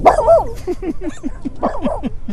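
A dog barks in a quick series of short, close, yappy barks, about a dozen in a rapid rhythm with a brief pause partway through.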